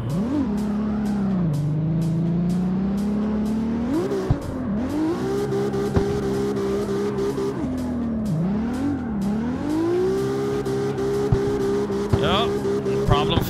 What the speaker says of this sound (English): Yeah, that engine this car had is terrible.